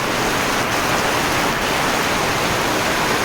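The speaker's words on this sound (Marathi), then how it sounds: "काय पाऊस आला बाप रे अचानक पावसाचं जोरदार आगमन" Heavy monsoon downpour in a Konkan village, a loud, dense, unbroken roar of rain that fills the whole clip close by, with no voices or pauses.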